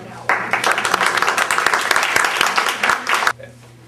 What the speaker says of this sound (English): So I just want to give you guys a round of applause to start out.